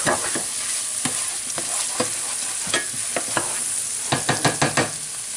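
Chopped garlic sizzles in a hot pan for beef stroganoff, with a steady bright hiss broken by sharp scraping stirs that come in quick clusters near the end.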